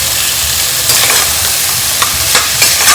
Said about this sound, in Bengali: এবার ভেজে রাখা কাঁকড়াগুলোকে এর মধ্যে দিয়ে দিলাম এটা দিয়ে আমি কিছুক্ষণ কষাবো